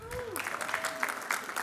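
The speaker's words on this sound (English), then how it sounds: "let's clap between" Clapping from an awards ceremony audience, a soft, steady patter of many hands that carries on beneath a speaking voice.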